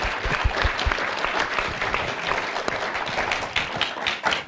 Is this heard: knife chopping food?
no